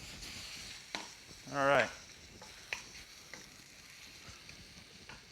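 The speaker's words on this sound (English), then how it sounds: "Looks like we're sauteing some pulled pork, right?" Pulled pork sauteing in a pan makes a soft, steady sizzle, broken by a few utensil taps and a brief spoken remark near the middle.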